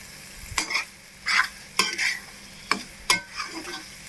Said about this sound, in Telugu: ఇలా కలుపుతూ ఉండాలి